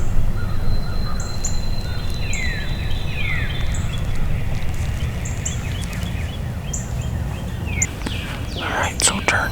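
Wild turkeys gobble from a roost at dawn during a spring hunt, the calls faint and distant among chirping songbirds and steady low background noise.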